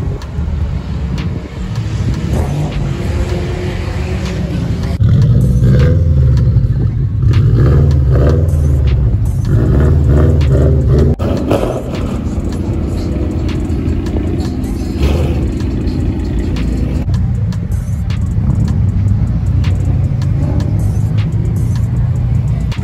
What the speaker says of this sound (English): The Chargers come pulling up now.